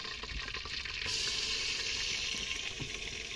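Steady hissing sizzle of tomatoes and garlic frying in a hot pan, close and continuous, with faint stirring clatter and no voices.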